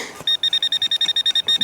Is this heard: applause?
no